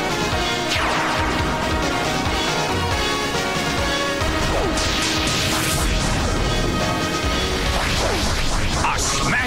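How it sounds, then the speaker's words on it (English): A smashing attack lands in the Pokémon Battle Revolution video game, loud crashing and whooshing impact effects over continuous battle music, with bursts of swishing noise midway and near the end. "A smashing blow."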